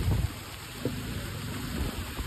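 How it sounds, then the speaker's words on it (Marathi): Normal rain in Roha gives a steady broadband hiss with a low rumbling undertone, continuous throughout, no voices. "हे नॉर्मल पाऊस आहे आणि इथला एकदम नॉर्मल पाऊस आहे."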